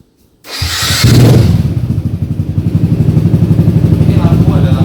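A Yamaha Jupiter MX motorcycle modified to look like a Ducati Panigale starts up loudly after a brief silence, then settles into a close, pulsing idle.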